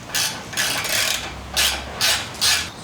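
A ball Allen on an extension works a bolt free inside the primary of an M8 Softail motorcycle during a chain conversion, making about five close, rasping ratchet-like strokes in steady bursts with no talking.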